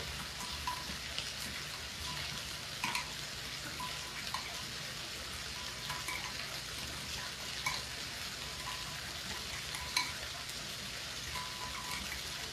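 Cornstarch-like thickener is whisked into a beef broccoli ramen stir fry, giving a faint, steady wet patter and light clicking of the whisk at a low level with scattered small taps.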